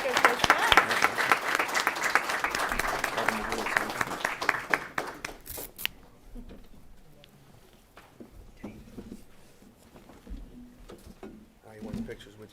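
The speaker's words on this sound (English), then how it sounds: "Let's give them a round of applause again." Audience applause at a 2022 career and technical education signing day ceremony, loud dense clapping that fades out after about six seconds into scattered claps and a quieter room.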